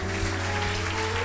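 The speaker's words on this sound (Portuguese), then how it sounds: "Vamos aplaudir nosso Deus." A church congregation applauding God during a service, a dense sustained wash of clapping from many hands over a steady hum of music, continuous and fairly loud.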